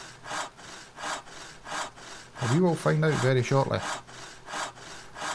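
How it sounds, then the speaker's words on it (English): Timber being sawn in the video game Steam Hammer, a steady back-and-forth rasp repeating in regular strokes, briefly overlapped by someone talking in the middle. "Sawing up my wood."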